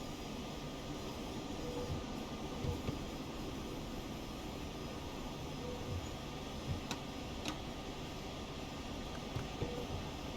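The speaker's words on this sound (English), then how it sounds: "At least one train passed." A train passes in a German railway simulator game, a steady broad rumble with rolling wheel noise holding at even loudness, occasional brief clicks and taps rising over it, with no talk.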